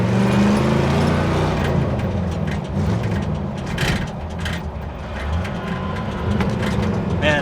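A car engine runs while the car drives along, giving a loud, steady motor drone from inside the cabin that swells slightly at times, with occasional rattles.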